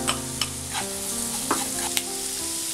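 Onions with shallots and curry leaves, salted, sizzle in a pan while a spoon scrapes and stirs them in a few sharp clicks and rasps over a steady frying hiss; close and moderately loud, with no talk.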